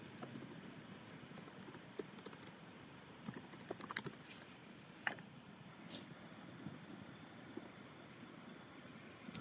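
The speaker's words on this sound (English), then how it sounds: "So we would just come here and we would type in clouds." Light typing on a computer keyboard while searching for cloud graphics in an image tool, scattered soft key clicks at an uneven pace over a steady low hiss, faint and close.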